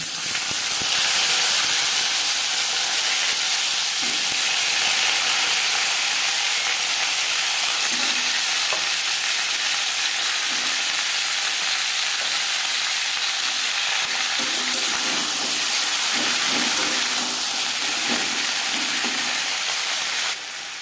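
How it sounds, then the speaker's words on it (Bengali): Flat beans frying in oil with whole cumin seeds and slit green chilies, a continuous loud hissing sizzle with faint scraping and stirring underneath, no voices. "জিরে কাঁচা লঙ্কা ভেজে নেওয়ার পর দিয়ে দেবো শিম"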